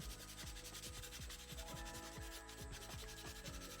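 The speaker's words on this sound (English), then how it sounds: "I took this little finger sander and I just sanded everything down smooth" Steady, close-up sanding with a small finger sander rubbing across a wooden dresser, a continuous gritty buzz with a faint rhythmic pulsing and no talking.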